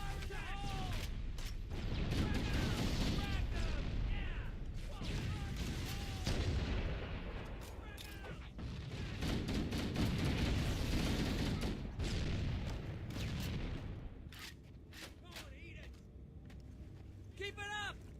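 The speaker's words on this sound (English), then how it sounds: "That is too many grenades." Repeated booming grenade explosions go off amid sustained gunfire in a shooter game, loud and dense throughout, with voices talking over the chaos.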